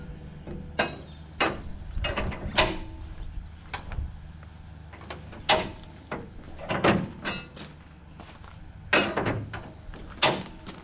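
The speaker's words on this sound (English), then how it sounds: "Run a winch up to where it's kind of snug, where that rod won't slide down in it." A hand winch on a Quick Draw Conestoga trailer cover kit is cranked snug against its rod, making a series of close, irregular ratcheting clacks and knocks in short clustered bursts.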